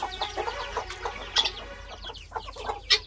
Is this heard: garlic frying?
no